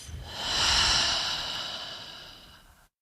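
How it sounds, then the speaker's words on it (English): A single long, deep breath is pushed out through the mouth, a steady breathy rush that swells and then slowly fades, heard close and alone. "Exhale out of your mouth."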